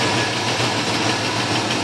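A Chevy 350 V8 with a Holley carburetor and new intake runs in a 1984 Oldsmobile Delta 88, a close, steady rumbling idle with constant loudness and no voices.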